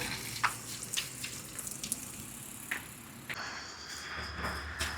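Water runs from a tap for washing hands and face during a road trip, with splashing and spattering at first, then a steadier flow pouring nearby toward the end.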